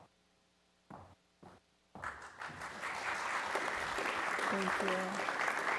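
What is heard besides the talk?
applause for a speaker at a city council meeting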